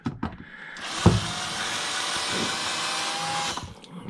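A small power screwdriver or drill whirs steadily for a few seconds while screws come out of a 6-in-1 booster pack, with a sharp click at the start and handling knocks around the edges.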